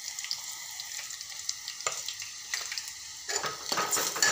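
Onions sizzle in a pan for a spinach and lentil curry, a steady close hiss with scattered crackles, spatula scrapes and utensil clinks, louder toward the end.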